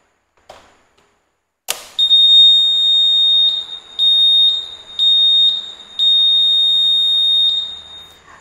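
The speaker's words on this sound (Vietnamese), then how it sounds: "còi của hệ thống khóa thông minh hiện tại đang phát ra tiếng kêu" A motorcycle smart key system's alarm horn sounds during a scooter SCU replacement, several loud high-pitched electronic beeps in a broken rhythm after a click and a sharp knock, close and piercing.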